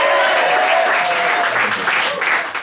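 Crowd applause at a stand-up comedy show, a loud, close burst of clapping filling the short stretch, with faint voices underneath.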